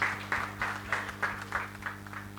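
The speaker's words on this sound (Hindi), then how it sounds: "ये तालियां नहीं रुकनी चाहिए।" Audience applause at a launch event, heard as a rhythmic run of about eight evenly spaced claps, moderately loud, over a steady low electrical hum.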